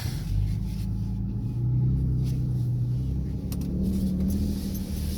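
A 2012 Ford F-150 fitted with a Flowmaster 44 Super muffler drives along, its engine and exhaust giving a steady, fairly loud low rumble with a mild swell as it accelerates.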